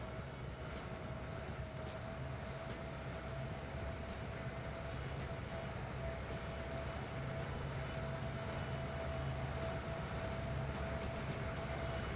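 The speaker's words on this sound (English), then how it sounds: "we'll enjoy a few shots of our train coming through the west end of Nick's yard" A train rolls through the west end of a rail yard in Trainz 2019, a continuous, fairly quiet rumble with a steady tone and faint clicks of wheels crossing rail joints, and no talking.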